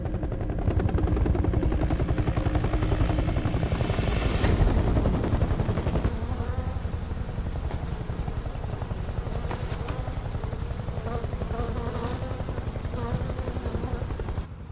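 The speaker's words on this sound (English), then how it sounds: "Russian Hind D, the only helicopter to ever have ejection seats." A Russian Hind D attack helicopter in the video game Metal Gear Solid 3: Snake Eater, its steady rotor thumping loud and continuous alongside bursts of gunfire, with faint speech under it.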